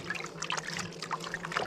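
Muskrat hides being swished and wrung in a tub of water with Dawn dish soap, giving soft close trickling and sloshing splashes that come in small bursts, with no talking.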